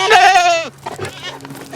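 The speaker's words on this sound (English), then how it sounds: "Ranger, there's your favorite goat" A goat on a farm gives one loud, close, wavering bleat lasting under a second, followed by softer, muffled rustling and shuffling.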